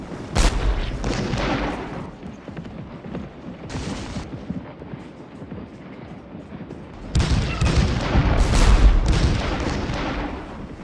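Heavy cannon fire in the Civil War strategy game Scourge of War: Gettysburg, with booming artillery shots and rolling volleys that build to a dense barrage near the end, alongside a faint voice.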